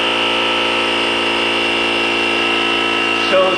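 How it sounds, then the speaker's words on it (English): A Gooloo GT6000 jump starter powers a small portable tire inflator whose electric compressor motor drones loudly and steadily with a buzzing, high-pitched whine, close by, with a brief clunk near the end. "tire inflator got power"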